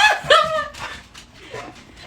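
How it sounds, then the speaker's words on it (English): A pet dog at home gives a sharp yelp followed by faint whimpering and soft snuffling noises, fairly close and moderately loud. "The dog."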